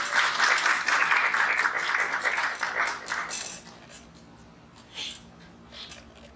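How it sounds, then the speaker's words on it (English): An audience at a disaster-mitigation keynote event claps to welcome a speaker, full applause for about three seconds that thins and trails off into scattered claps and room noise. "Give her a round of applause, please."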